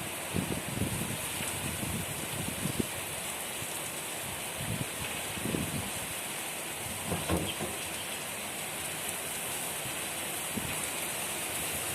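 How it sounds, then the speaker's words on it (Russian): Heavy rain downpour with strong wind, a steady dense hiss of rain on surfaces throughout, with occasional louder splashes and gusts, no talking. "какой ливняк пошел."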